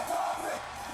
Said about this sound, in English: The crowd chanting "fuck the topic."